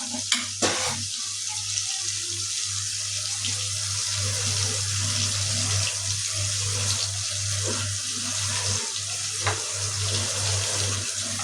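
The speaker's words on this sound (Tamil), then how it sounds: "இப்போ இதெல்லாம் இந்த தண்ணி ஊற்றி" Water is poured into a sizzling pan of sautéed tomato and onion, a steady gushing splash with occasional clinks of utensils, close up.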